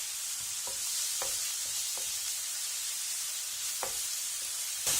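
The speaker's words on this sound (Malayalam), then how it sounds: "വെളിച്ചെണ്ണയിലേക്ക് നമ്മൾ ചതച്ച് വെച്ചിരിക്കുന്ന ഇഞ്ചിയും ഉള്ളിയും ചേർക്കാം" Crushed ginger and onion frying in coconut oil in a pan for a simple egg fry, a steady close hiss of sizzling with a few soft clinks of stirring and no talk.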